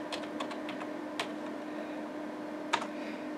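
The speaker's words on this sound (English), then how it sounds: "So let's type happy birthday." Typing on a computer keyboard at a DOS prompt, a few sparse soft key clicks spread unevenly over a steady background hum, faint and close.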